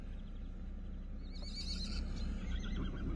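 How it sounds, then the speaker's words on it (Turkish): Free-roaming horses on Spil Mountain in Manisa neigh and whinny loudly over a steady low outdoor rumble, one clear call rising midway, with faint hoof clops nearby. "Manisa Spildağ'ın atları."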